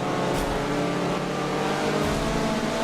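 A Spec Miata race car in iRacing held at full throttle, a steady, loud engine drone that stays constant from start to finish.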